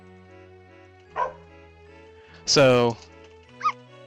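Bernard the dog in Pom Gets Wi-Fi gives short, bright barks and yips, three separate cartoonish bursts over a soft musical backdrop, the middle one longest and loudest, with a brief spoken word.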